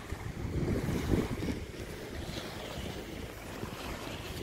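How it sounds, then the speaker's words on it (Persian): A river flows past a forest bank in Russia, its faint, steady rush of water mixed with wind buffeting the microphone. "صدای آب رودخونه رو گوش کنید"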